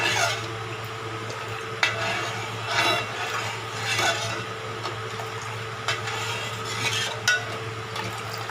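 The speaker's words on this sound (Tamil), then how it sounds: "கைவிடாமல் கிண்டணுங்க, இல்லைன்னா கட்டி ஆகிடும்." A spoon stirs thick urad dal porridge (ulundhu kanji) in a pot, making a steady scraping and swishing with occasional sharp knocks against the pot, close and continuous, with no voices.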